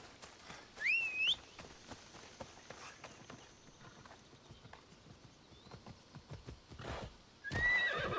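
Horse in the Assassin's Creed Odyssey video game, two loud whinnying neighs at start and end with rapid hoof clip-clops galloping steadily between them.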